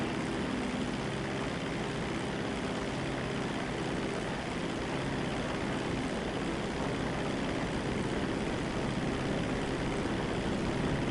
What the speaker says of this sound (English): I heard the fighter jet getting ready.